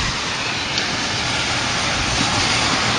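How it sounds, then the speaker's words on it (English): Steady broadband traffic rumble from cars passing on a busy main street outside a bedroom window, a continuous wash of road noise with no distinct single passes, on a rainy, windy day. "So there's, of course, many cars that go by here."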